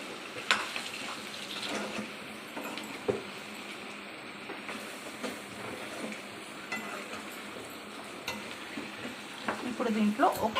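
Chicken fries with chilli powder and spices in a pan, a soft continuous sizzle broken by scattered scraping and clinking as a spoon stirs the mix, fairly quiet throughout.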